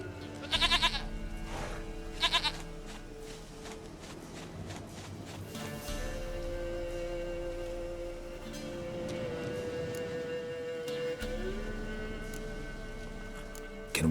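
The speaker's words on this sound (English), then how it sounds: "Goat of mine, dearest, sweetest goat." A goat bleats in The Witcher 3 video game, two short loud bleats near the start over a droning, tonal ambient music bed with soft footstep-like thumps.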